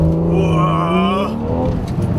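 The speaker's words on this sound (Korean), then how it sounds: "여기서 브레이크를 떼면" Porsche 911 Carrera S Mk1 with a naturally aspirated engine launching under launch control in Sport Plus mode, its loud, close engine note rising steadily in pitch through hard acceleration before easing off slightly.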